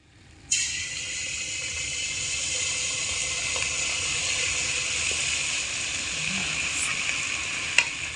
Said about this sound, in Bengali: গরম তেলের মধ্যে অল্প করে দিয়ে দেব।